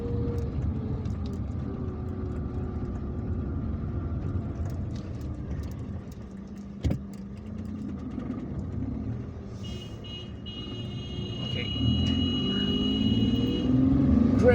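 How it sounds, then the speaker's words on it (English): A car drives through Algiers from National Highway 8 at El Harrach toward Hussein Dey, a steady interior engine and road rumble with a single brief knock midway and rising revs toward the end. "we're going to continue driving straight on"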